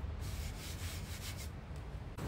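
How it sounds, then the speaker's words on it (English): A Parkside 20V cordless multi-purpose tool (PAMFW 20 Li B2) fitted with P60 sandpaper sands wood, giving a continuous gritty rasping with slight pulsing strokes, close and steady, ending abruptly. "Now I will sanding the wood with P60 sandpaper and make it smoother."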